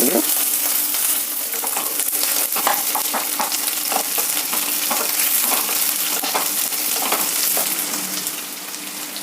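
Sliced onions and tomato fry in a pan for a masala gravy, producing a continuous crackling sizzle punctuated by repeated spatula scrapes and clinks against the metal, close and steady.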